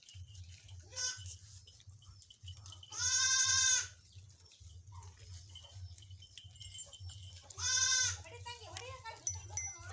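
Goats bleat twice in loud, drawn-out calls, with a few fainter bleats between them over a steady low rumble.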